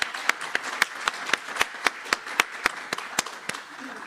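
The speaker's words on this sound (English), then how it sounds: "can we just do a round of applause for all the volunteers who put effort?" Audience applause for volunteers at a community action plan presentation, sparse and rhythmic, with a handful of distinct claps landing at a steady beat, close and moderately loud, over about four seconds.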